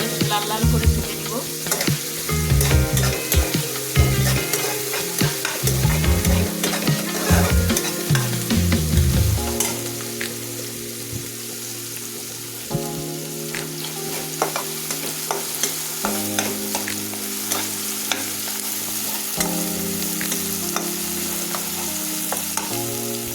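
Onions frying in a pan for a meat curry, a loud continuous sizzle broken by repeated scraping and stirring of the spatula against the pan, with no talking.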